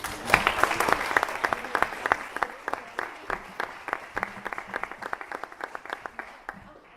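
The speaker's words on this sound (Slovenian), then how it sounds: "En aplavz za Tom." Audience applause at a Slovenian business meeting, a crowd clapping steadily for a guest speaker named Tom. Dense, even clapping runs close and loud for several seconds, then thins to scattered claps toward the end.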